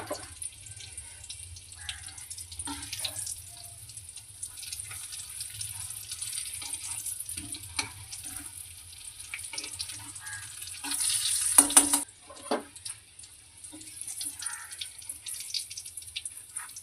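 Bean pakoras frying in hot oil give off a steady crackling sizzle with scattered pops and bubbling, close and continuous throughout, growing briefly louder near the end.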